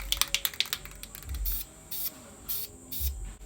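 Short bursts of a spray paint can hiss as a first coat goes on in a mobile painting booth under a house, preceded by a rapid series of rattling clicks from the can.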